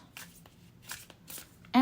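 A deck of cards, used for a pick-a-card reading, being shuffled: three soft rustling bursts in quick succession, fairly quiet, with a brief voice at the very end.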